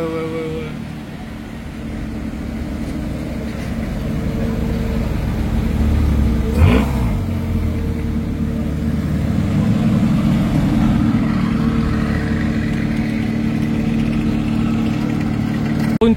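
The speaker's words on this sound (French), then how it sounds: "Une 3 RS là qui arrive, beaucoup de 992 GT3 RS cette année aussi." A Porsche 992 GT3 RS sports car approaches on a street in Cannes, its engine a steady, loud mid-range drone that swells gradually as it draws nearer, with a brief sharper blip partway through.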